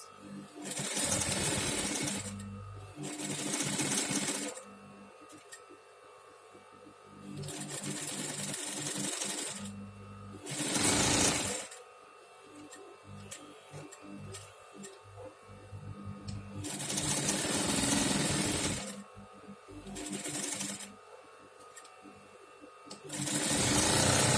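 A sewing machine stitches along a fabric edge at about 0.1 mm from the seam in a patchwork project. It sounds in several loud, sustained whirring bursts separated by pauses, and a voice talks in the gaps.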